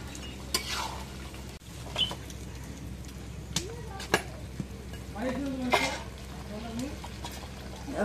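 Goat meat is stirred and fried in a spiced pan, with a low sizzle under scattered clinks and scrapes of a utensil against the pan while a person talks intermittently.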